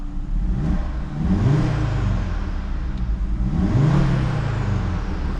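An Audi RS3 Sportback's five-cylinder engine revs in two swelling pulls, the pitch rising with a faint turbo whir, loud and close with no talking.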